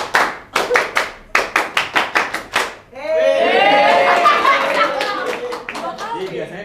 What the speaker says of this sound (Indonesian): Peragakan tepuk pramuka.